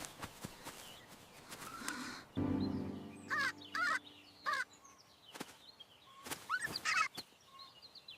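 A cartoon bird gives a few short, harsh caw-like calls in bursts, close and fairly clear, among scattered light taps and shuffling sounds.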